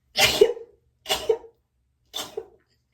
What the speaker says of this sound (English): wait, I have to sneeze.